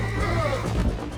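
A horse neighs in the Western video game Red Dead Redemption, a brief whinny with a rising then falling pitch, close and fairly loud over faint game background noise.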